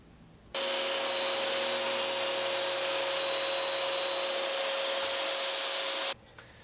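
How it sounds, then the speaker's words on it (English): A table saw runs at a steady, loud whine through wood being cut into strips. It starts abruptly, holds an even drone with a faint tonal hum, and then cuts off. "we'll take the wood over to the table saw and we'll make strips of approximately that width"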